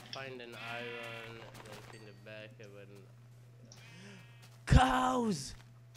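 Cows mooing in the Minecraft video game while exploring a jungle; one loud, drawn-out low moo rises near the end over earlier animal-like calls and a voice.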